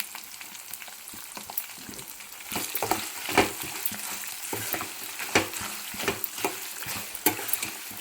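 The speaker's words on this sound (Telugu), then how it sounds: "ఇప్పుడు ఇందులోకి పసుపు టేస్ట్కి సరిపడా ఉప్పు అయితే వేసుకుని అయితే కలుపుకోవాలి" Pulihora rice being stirred in a pan with turmeric and salt, with irregular scraping and stirring strokes over a light sizzle that grows busier partway through.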